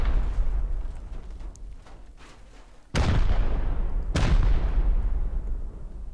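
Two heavy rocket blasts fired in a building-game livestream, one near the middle and another just after, each a sharp booming onset that rolls into a sustained rumble over a steady noisy game background.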